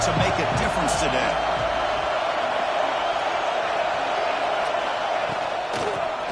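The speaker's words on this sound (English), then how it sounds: "this home crowd is fired up and ready to make a difference today" A home crowd roars at a college football game between Texas and Alabama, a dense, steady wash of stadium cheering with a few sharp thuds early on, while a commentator talks over the noise.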